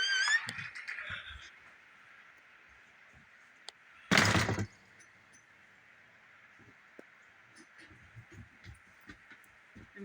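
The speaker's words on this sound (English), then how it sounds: "I'm closing this door" A door swung shut at a house in rural Vermont, one solid bang standing out alone amid faint outdoor quiet with a bird call at the start.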